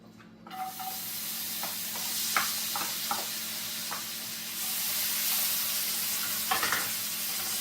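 Red pepper drops into a hot pot of onions for a vegetable pizza topping and sizzles loudly, with bursts of crackle and stirring scrapes over a steady hiss and no talking.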